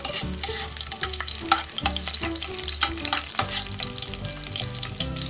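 Garlic hits hot oil and fries loudly with a busy, crackling sizzle, broken by a few utensil stirs and clicks, close and continuous without speech.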